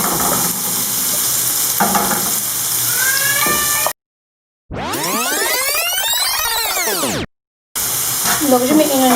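Finely chopped onion sizzling and frying in butter in a pan, a steady loud hiss broken by two short silent gaps, with a gliding whoosh between them.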